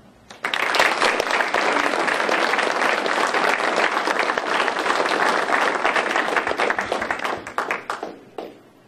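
Sustained, loud applause from an audience at a historical society lecture in Meredith, welcoming a speaker, steady for several seconds before tapering off at the end.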